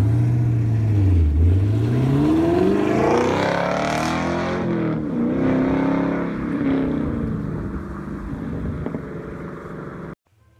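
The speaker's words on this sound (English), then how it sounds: "Like the other American V8s, this one too sounds incredible." A big American 6.2-liter naturally aspirated V8 engine revs up and down, deep rumble rising to a high snarl and falling back, loud and close, then cutting off at the end.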